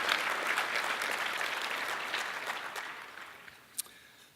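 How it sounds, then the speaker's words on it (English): A meeting audience gives a round of applause, a broad, steady clapping from many people that slowly fades over a few seconds, ending with a single sharp clap. "So again, I ask you all to give them a big round of applause."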